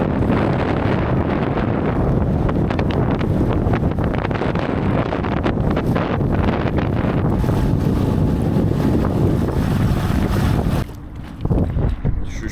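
A small boat pushes straight into a strong storm wind. Loud, constant wind buffeting on the microphone mixes with the rushing water and hull noise, and the roar drops briefly near the end.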